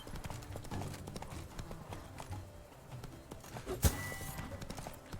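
Roach the horse galloping in The Witcher 3: Wild Hunt: steady hoof clip-clop at pace under game music and a talking voice, with a sharp whoosh or crack near the end.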